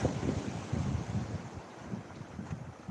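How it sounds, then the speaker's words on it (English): Sea waves wash along the seafront at Lyme Regis, a steady broadband rush with soft surges, heard at a moderate distance with wind buffeting the microphone and no talking. "Look at them waves."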